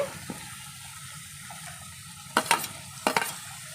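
Dry fish fries in oil with tomato for a fish curry, giving a low, steady sizzle broken by two short bursts of stirring clatter.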